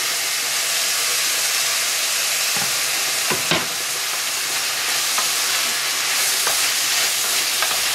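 Tomato frying in a pan for a Chinese soup, a loud, continuous hissing sizzle with a few soft scraping stirs and clicks near the middle.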